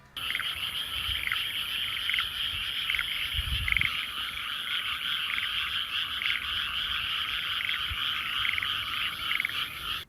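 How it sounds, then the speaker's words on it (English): A dense chorus of frogs croaks continuously at night, layered with insect trilling, with no voices present. "You could hear all these frogs croaking."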